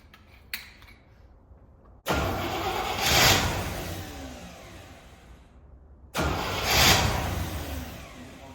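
Two attempts to crank the engine of a 1974 Chevy C20 squarebody truck that sat 25 years in the desert. Each is a loud, near burst of churning starter and motor noise that swells and fades without catching, with quiet gaps between.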